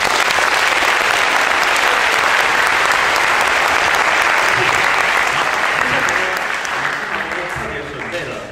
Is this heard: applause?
yes